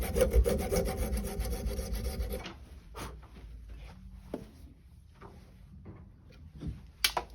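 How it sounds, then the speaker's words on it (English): Hand hacksaw cutting down part of a transtibial prosthetic socket, steady close rasping strokes for a couple of seconds, then scattered handling knocks and clicks. "I have just a normal hacksaw that I'm going to use here. And I'm going to cut this down."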